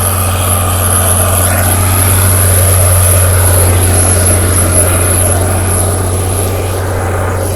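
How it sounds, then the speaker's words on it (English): A tractor engine runs steadily during a wheat trial-plot harvest in the field, a loud, constant droning hum with a strong low rumble and no change in pace, no voices over it. "Tractor sounds good."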